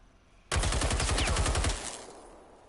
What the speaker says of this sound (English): that whirling noise and everything is actually this gun itself